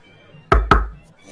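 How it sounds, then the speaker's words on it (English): Two sharp, loud knocks land on the body of a truck in quick succession, resonant and close, with a soft background hum around them. "I'll just knock on the truck."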